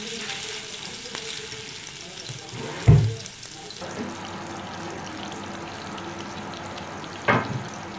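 Chapli kebabs sizzle in a pan over a low flame, a soft steady frying hiss with a couple of louder clatters as a patty goes in. Someone talks briefly.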